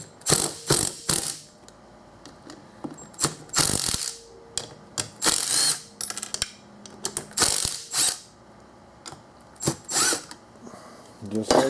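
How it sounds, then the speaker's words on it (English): An impact wrench rattles off the bolts of a fan clutch from a 2010-2019 Dodge Ram 5.7L, firing in short, loud, close bursts with brief pauses between them across the whole stretch. "the easiest way to take these fan clutches apart to grab an impact"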